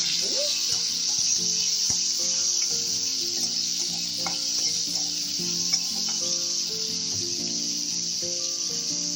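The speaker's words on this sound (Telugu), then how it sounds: "దీంట్లోనే 2 ఉల్లిపాయలు, పచ్చిమిర్చి వేసుకున్నాం." Onions and green chillies frying in oil give a steady, even sizzle that holds unbroken for the whole stretch, with no talking over it.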